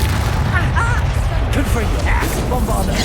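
Spell blasts from Confringo and Bombarda in the Hogwarts Legacy video game, heavy booming impacts and crashes bursting loudly in quick succession over a dense rumbling battle din.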